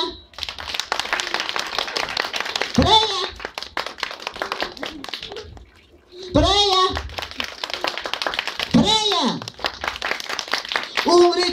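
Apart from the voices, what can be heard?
applause voting for Freya at a birthday party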